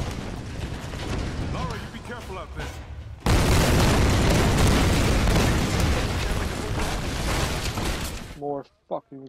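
Explosion in the video game Tomb Raider: Definitive Edition, a sudden loud blast that bursts in after voices and a deep rumble, then roars on with crashing debris before cutting off to brief voices.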